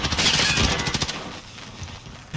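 Shotgun blasts in the video game Modern Warfare, a dense burst of loud booming shots packed into the first second, then fading into lower game noise with a sharp hit at the end.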